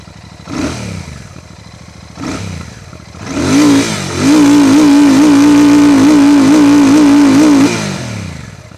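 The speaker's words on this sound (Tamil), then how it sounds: "இப்போ இதை ஜஸ்ட்டு ரெவ் பண்ணி இதோட பீட் எப்படி இருக்குது அப்படிங்கிறத இப்போ நம்ம செக் பண்ணி பார்ப்போம்." A Royal Enfield Classic 650 Twin motorcycle engine up close: two short throttle blips, then a loud sustained rev holding a steady droning tone for several seconds before it drops back.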